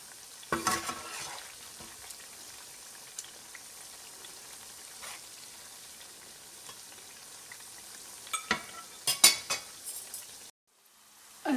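Sesame-coated arvi (taro root) pieces frying in oil over medium heat, a soft continuous bubbling sizzle with scattered clinks and scraping from turning the pieces, busier near the end before a brief cutoff.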